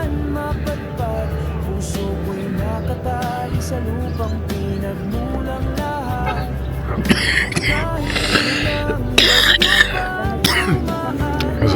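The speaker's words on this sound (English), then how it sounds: "I have to excuse the cough, I've been a bit poorly." Someone who has been unwell coughs and clears their throat a few times outdoors in Calayab, Laoag City, with the loudest rough bursts coming near the end over a steady low background rumble.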